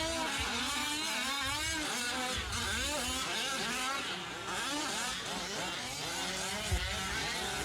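Several 5th-scale RC trucks with small gas engines race around a track, their buzzing, revving engines overlapping in a dense, continuous whine that swoops up and down as they accelerate and pass.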